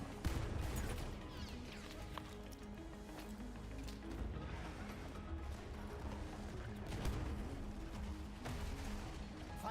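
Enemy machine gun fire in the Battlefield 1 video game: a continuous dense battle din of rattling bursts and distant booms, fairly quiet and steady throughout.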